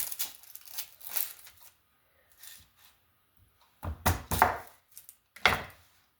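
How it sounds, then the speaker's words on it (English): Knife dicing a red onion on a cutting board, with a few scattered crisp chops, a quiet gap and then a cluster of louder close cuts. "while we're dicing, let's try our onion"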